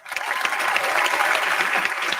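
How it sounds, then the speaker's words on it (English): Applause from a comedy roast audience, a dense, continuous burst of clapping that swells quickly after a quiet start and holds steady and full for its whole short length. "Please hold your applause until the very end."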